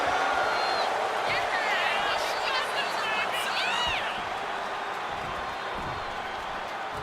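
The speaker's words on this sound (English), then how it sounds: "CM Punk looking for support from the crowd." Arena crowd noise from a WWE 2K26 wrestling match, a steady roar of cheering and whooping with rising whistles and shouts that holds loud throughout, easing slightly toward the end.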